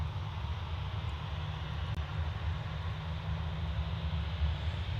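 A Ryanair airliner at Manchester Airport gives off a steady, heavy low engine roar that holds constant throughout, fairly distant and with no one speaking.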